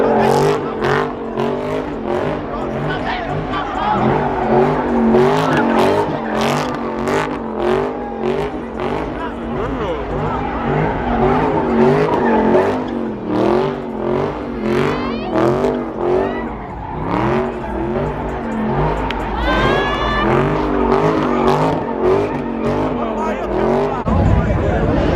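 A Dodge Charger Redeye revs hard and skids, its loud engine roar rising and falling steadily for the whole stretch, while a crowd talks and shouts nearby.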